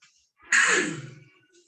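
One loud, nearby sneeze bursts out sharply, then trails off in a short breathy tail, amid the quiet of a classroom.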